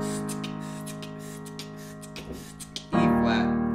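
A piano sustains a ringing chord with a rich, full tone that slowly decays, then a fresh chord is struck near the end with a sudden louder attack; no talking over it.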